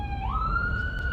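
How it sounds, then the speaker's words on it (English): An emergency vehicle siren wails outside, a steady rising electronic tone that holds loud and clear throughout with low traffic rumble beneath. "Another siren."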